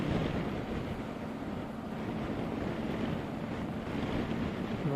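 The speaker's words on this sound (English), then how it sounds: "real stiff winds today" Stiff wind during a boat ride buffets the microphone in a continuous, loud, broadband rush, with a steady roar underneath and no voices.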